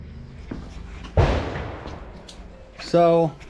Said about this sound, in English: my neighbor is shooting right now, so I don't know if you can hear me